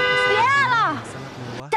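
Car horn honking in a drama scene, a sustained blare that bends in pitch, followed by a brief final toot, heard alongside a voice.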